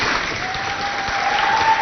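An audience at a school event between Académie Royale and George Washington applauds loudly, making a steady, dense clatter of many hands that holds at an even level throughout.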